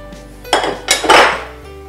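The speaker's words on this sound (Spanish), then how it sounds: "y empezamos a mezclar." Spoon clinking and scraping against a bowl while cream, mayonnaise and mustard are stirred into a salad dressing, a few short close knocks within two seconds.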